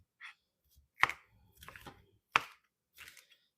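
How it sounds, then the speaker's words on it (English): A knife chops shishito peppers on a cutting board in a loose chop, giving about five separate sharp thuds with uneven gaps, close and fairly clear, with no talk. "So we're gonna do kind of like a loose chop similar to our onions on our peppers."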